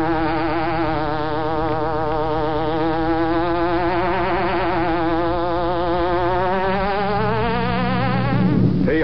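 A hornet buzzing sound effect from the Green Hornet radio drama: one loud, close, continuous drone that wavers in pitch and runs the whole time, with no talking over it.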